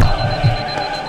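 An alarm clock rings loudly and continuously throughout, heard during a session of the video game Peggle.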